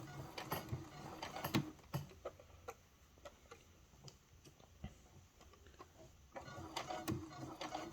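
A sewing machine stitching a seam along the edge of fabric, giving soft, irregular mechanical ticks and clicks that speed up in short runs between quieter stretches, close and faint.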